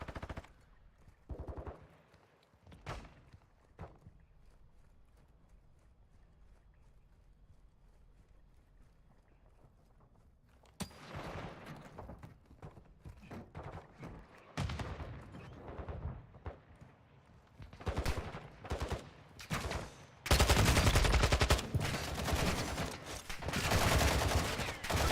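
Gunfire in Call of Duty DMZ: after a quiet stretch with a few isolated shots, loud rapid automatic bursts and single shots pile up, ending in a dense, sustained volley.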